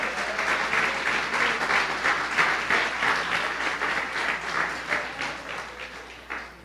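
A church congregation applauding during a service, a dense, continuous roar of many hands clapping together, steady and full, easing slightly toward the end.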